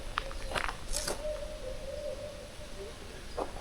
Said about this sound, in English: see if you guys can hear these owls